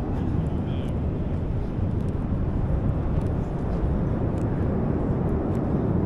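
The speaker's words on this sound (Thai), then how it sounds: "โอ้ยวันนี้เครื่องบินทั้งวันเลยนะครับ" An airplane passes overhead above a downtown Toronto street near the University of Toronto campus, a steady, broad roar heard from a distance, with traffic and wind noise mixed in and no speech.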